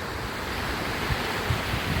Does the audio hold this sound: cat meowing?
no